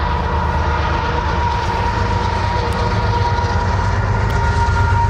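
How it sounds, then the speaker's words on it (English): A passing train makes a loud, continuous rumble with a steady tonal hum and rolling wheel noise throughout, with no talking. "there's a fucking train going by right now"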